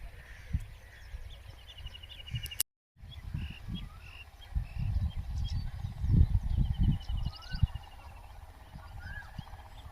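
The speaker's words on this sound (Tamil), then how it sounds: "புறா புறா புறா கூட்டம்" A flock of pigeons on a farm, with soft low cooing and fluttering calls repeating close by over a quiet outdoor background, broken by one brief silent gap.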